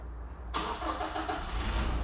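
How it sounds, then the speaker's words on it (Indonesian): A Toyota Innova's diesel engine cranks and catches after a push-button start on the automatic model, then settles into a steady, loud clattering idle close by. "Khas suara diesel."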